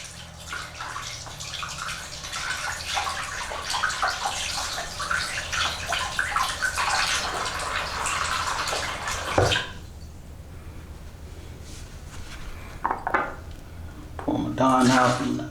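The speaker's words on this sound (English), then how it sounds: "you're gonna rinse them off, get all that soap up off of them." Gold grillz are rinsed of dish soap under a running sink tap. Steady splashing water pours for about nine seconds, then drops to quieter trickles and a few clinks.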